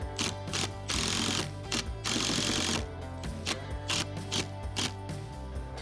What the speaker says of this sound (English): Insert the lock and secure into place with the fixing screws.